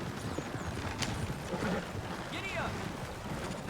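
Stagecoach horse hooves clip-clop steadily in a Western role-play video game, with a creaking coach and faint whinny beneath people talking.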